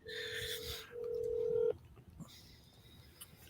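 An old-school telephone is dialed, giving a sequence of touch-tone beeps and a steady dial tone that cuts off sharply, followed by quiet room noise.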